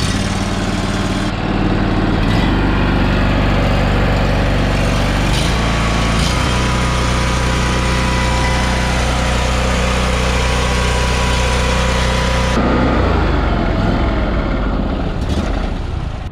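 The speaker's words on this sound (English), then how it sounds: "when you are turning the key and getting ready to start the engine" A Ferris or Ninja zero-turn mower engine cranks on the key and catches, then runs at a loud, steady idle up close before the revs shift and it settles again.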